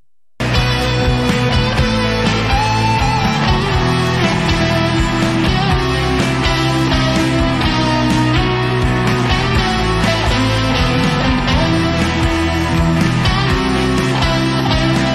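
Electric guitar playing a rock song's solo with smooth slides along the neck, loud and continuous throughout with dense sustained notes and no talking.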